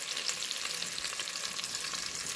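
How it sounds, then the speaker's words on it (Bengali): Spice-marinated quail pieces fry in hot oil with a loud, dense, continuous crackling sizzle, close up and with no voices. "তারপর এইভাবে গরম তেলে ভেজে নিলাম"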